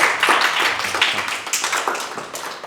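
Children clap for a pair of girls, a quick, uneven patter of small hands sustained close by for a couple of seconds, with no voices over it.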